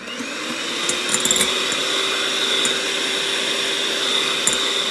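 An electric mixer whips meringue at high speed for a chiffon cake, giving a steady high-pitched motor whine with the whisk rattling and scraping against the bowl.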